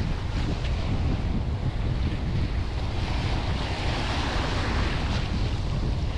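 Steady, loud wind buffets the microphone at the sea during a sea trout fishing outing, with surf and water rushing underneath in a continuous roar and no pauses.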